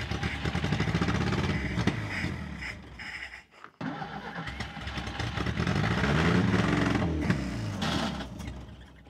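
An old car engine left abandoned for 42 years cranks and catches, running rough and uneven with mistimed firing, dropping out briefly and surging back without settling into an idle, close and loud.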